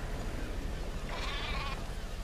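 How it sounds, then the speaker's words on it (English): A single wavering sheep bleat in Metal Gear Solid V: The Phantom Pain rises briefly over a dense, noisy background, short and fairly clear. "we see our friends, the sheep, as well as Jackie, have made it back to base safely"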